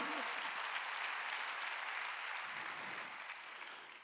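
Congregation applause during a Sunday church worship service, a steady wash of clapping heard from a distance at low volume, with no voices over it.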